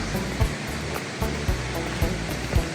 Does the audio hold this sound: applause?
no